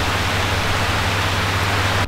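Rain drumming on the windscreen of a truck in Euro Truck Simulator 2 with a rain mod, a dense, even hiss over a low engine rumble, loud and continuous, ending abruptly.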